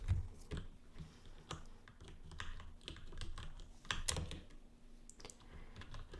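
Soft typing on a computer keyboard in a quiet room: a steady stream of light key clicks with uneven rhythm and no voices.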